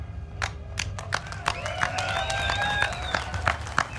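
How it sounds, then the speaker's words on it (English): An audience at a July 4th tea party in Reno, Nevada claps after a reading of the Declaration of Independence, with scattered distinct claps and sharp slaps rising over a faint whistle, moderately distant and thin. "please give them a round of applause"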